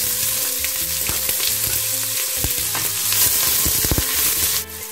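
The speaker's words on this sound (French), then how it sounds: "une fois que l'huile est chaude, je vais saler et faire revenir le oignon." Onion fries in hot salted oil in a saucepan for a simple tomato sauce, a loud, close, continuous sizzle with stirring scrapes and clatter underneath, and no talking.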